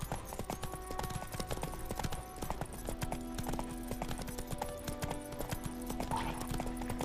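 Horse hooves clip-clopping at a quick gallop in The Witcher 3, steady rhythmic thuds with a brief whinny, under a game music score with no talk.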